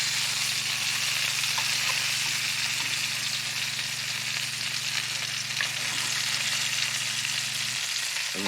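Bangers sizzling slowly on low heat in a pan, spurting fat, a steady close hiss and crackle that runs unbroken throughout, with faint low hum beneath and no talk.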